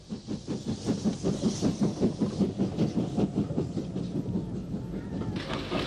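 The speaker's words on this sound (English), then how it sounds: "And roaring down the line, bound for Dublin," VS class steam locomotive number 207 Boyne thunders along with rapid, regular exhaust beats and a hissing roar, loud and close, the rhythm pounding steadily without any talk.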